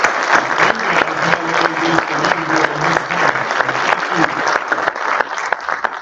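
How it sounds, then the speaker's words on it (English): A crowd at a graduation ceremony bursts into steady, full applause for a group of instructors, dense clapping continuing evenly throughout with some faint voices mixed in. "Let's give them a round of applause."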